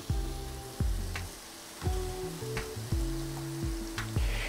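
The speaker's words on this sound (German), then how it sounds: "Meine anderen zwei Teile Toast kommen jetzt hier drauf." Slices of toast frying in a pan for armer Ritter, a steady close sizzle with a few clanks and scraping stirs from utensils against the pan, no voices over it.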